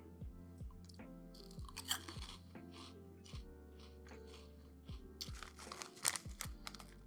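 Sohar chicken and chilli potato chips crunch in close, crisp bites with chewing and occasional bag crinkles, in irregular bursts without talk.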